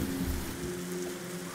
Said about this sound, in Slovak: Prší.